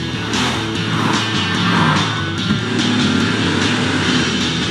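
A Nissan car with a 1.0 litre turbo engine in a Thai TV advert, a loud continuous engine roar with rising revs and tyre noise, blended with music.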